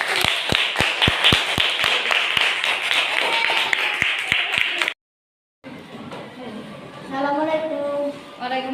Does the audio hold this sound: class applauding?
yes